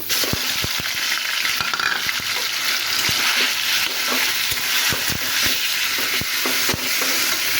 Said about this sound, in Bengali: এখানে তেলটাও গরম হয়ে গেছে, এখন আমি দিয়ে দেবো মাংসটা।